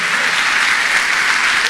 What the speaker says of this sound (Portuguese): Você pode dar mais um aplauso só para gastar a sua mão.